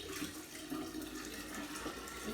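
Spring water poured from a container while making kombucha splashes and gurgles in a continuous, close, messy stream, steady for the whole short moment without any speech.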